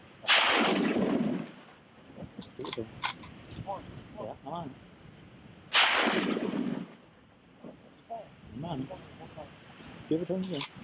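Rifle shots on a moose hunt in Newfoundland: two loud, close, booming reports several seconds apart, each rolling off into echo, with hunters talking between and after the shots.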